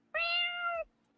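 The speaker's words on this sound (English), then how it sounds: "That's the cat." A single domestic cat gives one clear, drawn-out meow lasting under a second, fairly close and quiet, with a faint low hum underneath and no talking.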